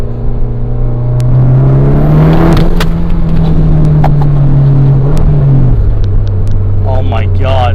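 A 400 bhp snow-camo-wrapped Mitsubishi Evo X with FBO upgrades revs hard from inside the car, its loud engine drone climbing and holding before easing off, with a voice talking over it near the end.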